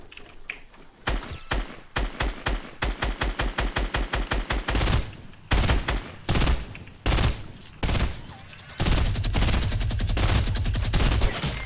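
Minigun fire in a Fortnite-style shooter: rapid, evenly spaced bursts of gunshots repeat in quick succession, then longer sustained streams of loud automatic fire, close and dominant with almost no talking.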